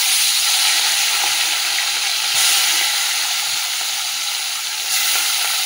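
Fish frying in oil in a kadai gives a loud, close, continuous sizzle with a steady crackling hiss and no voices.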